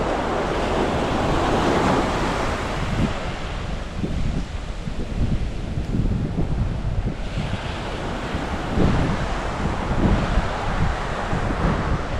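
Sea waves wash steadily onto a Bali beach, a continuous loud surf roar with wind buffeting the microphone throughout and no voices.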